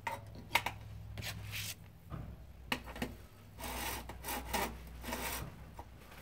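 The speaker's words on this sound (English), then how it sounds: "Use a diamond tone hole file." A diamond tone hole file rasps across a saxophone tone hole in a series of short, uneven strokes, close and fairly quiet, with brief pauses between passes and no speech.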